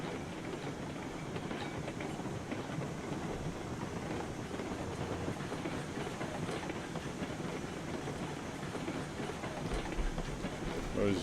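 Train rolling on rails in the RailRoads Online video game heading into a mine, a continuous moderate rumble with rhythmic clicking wheels and a faint hiss, steady throughout without talk.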